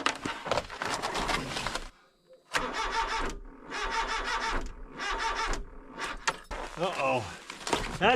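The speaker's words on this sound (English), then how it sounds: "Car doesn't want to start and it sounds like it's the battery." Car engine cranking and failing to start at zero degrees Fahrenheit with a weak battery, several long grinding starter bursts broken by short pauses, loud and close, ending in a rapid stuttering crank.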